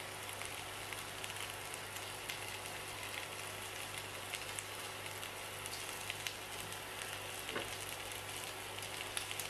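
Thinly sliced onions and minced garlic fry in oil in a pan over high heat, making a soft, continuous sizzling hiss with scattered faint crackles throughout.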